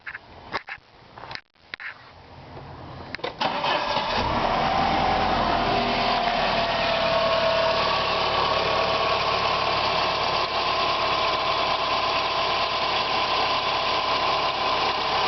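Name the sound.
car engine starting and idling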